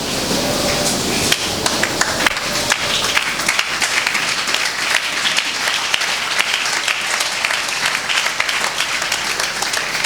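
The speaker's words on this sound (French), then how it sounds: "Merci de tes acclamations." Sustained applause and clapping from a church congregation, a dense, loud, steady wash of hand claps that continues throughout without spoken words.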